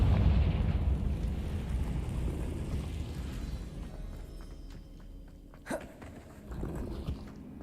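In Hogwarts Legacy, a Confringo fire spell sets off a deep, rumbling explosion that slowly fades, with a sharp crack and a few smaller pops following in the game's ambient background.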